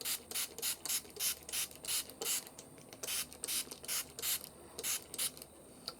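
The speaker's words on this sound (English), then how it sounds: "hopefully I'm not spraying ink all over myself" Rhythmic bursts of hissing ink spray repeat about a dozen times at close range onto planner pages, each short and sharp, with brief quiet gaps between them.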